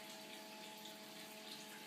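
A bathtub fills from the tap in a steady, continuous hiss and rush of water, even and unbroken throughout, quiet and heard alone.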